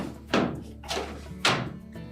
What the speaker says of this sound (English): line it up on the track in the opening, and press it firmly into place